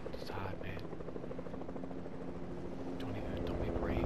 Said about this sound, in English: Oh, heli. Helicopter.